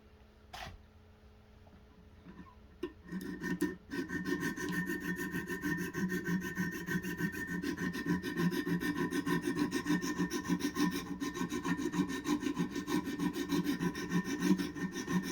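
A knife bevel is sharpened on a Wicked Edge Pro-Pack III guided sharpening system. Steady back-and-forth abrasive rubbing starts after a few seconds of quiet with light taps, then runs continuously and fairly loud to the end.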